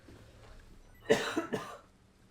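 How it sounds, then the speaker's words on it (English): Two harsh coughs in quick succession, close and fairly loud against a quiet background. "I got a cough so bad"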